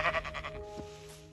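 A goat in the Minecraft video game gives a short, wavering bleat with a quick trembling pulse, fairly faint and brief, with no talk over it.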